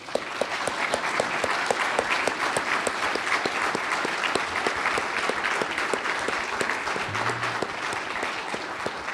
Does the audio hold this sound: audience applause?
yes